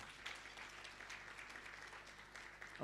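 An audience applauds steadily at a gender equality event, a dense, even patter of many hands clapping throughout, moderately distant and fairly quiet.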